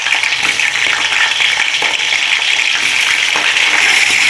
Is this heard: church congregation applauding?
no